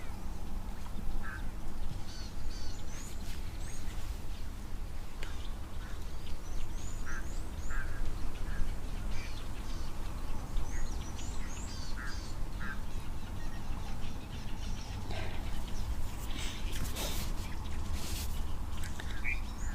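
Spur-winged geese call at an African waterhole, a scatter of short honking notes repeating at moderate distance over a steady low rumble of outdoor background noise.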